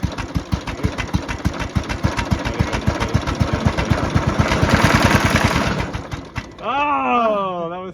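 A broken lawnmower's small petrol engine runs at a fast, steady chug after being started from a low choke setting, gradually surging louder before cutting out, followed by a voice exclaiming.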